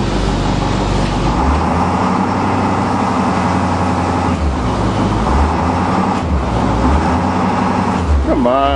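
A 2009 International school bus with its wheels frozen to the ground revs loudly and steadily as it strains to move, a dense continuous engine roar close up with a couple of surges.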